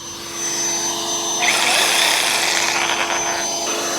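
A DeWalt Sawzall reciprocating saw runs from a battery inverter on a Weize 51.2v server rack battery. A steady electrical hum plays underneath, then a harsh buzzing cutting burst lasts about two seconds and trails off.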